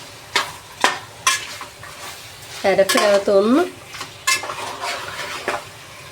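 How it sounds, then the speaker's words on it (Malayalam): Chicken is stirred in a pot for biryani: a spoon scrapes and clinks against the pot over a low sizzle, with a few sharp knocks and a short squeaky scrape in the middle. "നമ്മുടെ ചിക്കൻ നമുക്ക് നന്നായിട്ടൊന്ന് ഇളക്കി കൊടുക്കാം"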